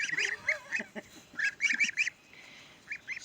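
Geese honk repeatedly in uneven bursts, several calls overlapping, fairly close and loud with short gaps between them.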